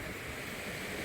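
Water rushes out of the Yagachi dam near Belur, released through gates opened only about six feet, a steady broadband roar, close and constant with no voices.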